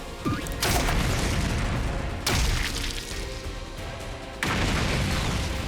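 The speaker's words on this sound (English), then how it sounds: "Maybe we put another bomb up over here." Bomb explosions in the video game The Hundred Line boom loudly in three heavy bursts, each followed by a rumbling roar that fills the space between them.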